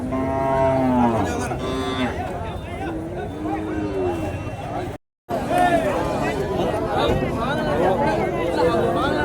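Cattle mooing at a native cattle market in Madrapalli, several long, loud, overlapping lowing calls nearby, with crowd chatter and people talking throughout.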